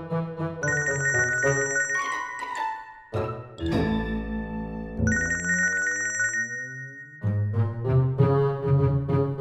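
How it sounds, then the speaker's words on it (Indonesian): A mobile phone rings with a loud, melodic electronic ringtone playing a bright looping tune with brief gaps, heard alone and close. "Handphone lo bunyi dari tadi."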